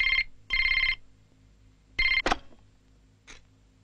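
A landline telephone rings in short repeated electronic bursts, two close together, then another after a pause, with a brief knock and a faint click between rings in a quiet domestic movie scene.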